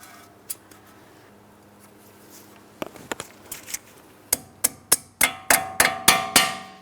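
Hammer peening over the cotter pin on a tie rod end nut of a 2008-2016 Chrysler Town & Country: a few scattered taps, then a steady run of sharp metallic hammer strikes growing louder and quicker, close and alone.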